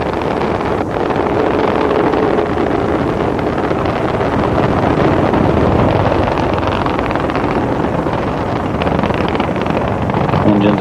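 Space Shuttle Columbia's engines on the STS-55 launch, throttling down through maximum aerodynamic pressure, produce a loud, continuous broadband roar with a rushing, wind-like texture that holds steady throughout.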